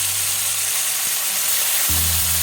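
Eggplant slices sautéing in a pan give a steady broadband sizzle, with a low hum cutting in near the end.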